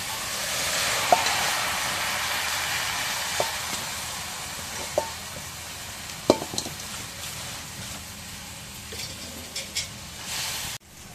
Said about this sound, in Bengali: এখন শাকটা কড়াইয়ের মধ্যে দিই, দিয়ে একটু ভাপায় আনে সেদ্ধ করে দিই।